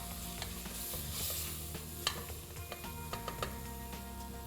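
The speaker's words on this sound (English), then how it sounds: "Give it a nice stir." Veg cheese pasta with ketchup is stirred in a pressure cooker, a quiet scraping and soft sizzle with a few light clicks of the spoon against the pot.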